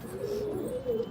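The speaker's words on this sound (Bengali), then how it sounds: "এটাও ব্রিডার পায়রা" Breeder pigeons coo close by in one low, throaty, rolling call that wavers across the whole moment, steady and unaccompanied.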